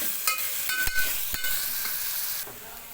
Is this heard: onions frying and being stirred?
yes